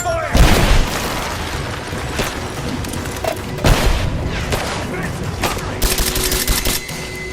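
Gunfire in the video game Rise of the Tomb Raider: bursts of rapid shots and heavy booms crackle continuously, with loud impacts near the start and middle, mixed with shouting voices.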